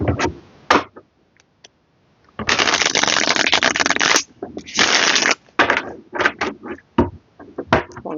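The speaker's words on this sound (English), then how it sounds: "Let me give these a good shuffle." Tarot cards are riffled and shuffled in bursts, two long loud bursts of rapid flapping followed by shorter quick shuffles and taps, close and clear.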